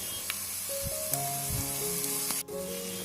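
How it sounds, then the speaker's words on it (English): Onions frying in a pan for chicken curry give a steady close sizzle and hiss, with faint stirring clinks and a few tonal kitchen sounds mixed in, no voices. "let the onions cook until they turn translucent"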